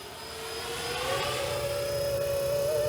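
A 500-class RC UH-60 Black Hawk model helicopter hovers nearby, its motor whine steady and a rising tone building gradually as it flies.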